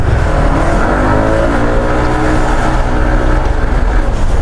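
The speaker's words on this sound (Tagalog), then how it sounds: "maririnig nyo na malakas talaga yung engine niya. Based pa lang sa tunog ng exhaust." An FKM Venture 150 motorcycle engine revs hard and loud with a throaty roar through its stock exhaust, sustained and close, without any speech.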